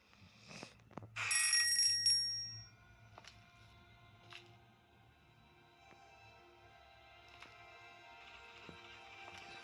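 Bright metallic bell ringing in the horror game Granny, a burst of repeated rings early on that stops abruptly, followed by quieter in-game knocks and a steady low hum.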